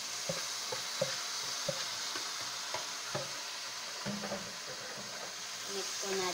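Marinated duck stirred in a hot pan with onion: irregular spatula clacks and scrapes over a soft sizzle, close by, with a voice talking faintly in the background.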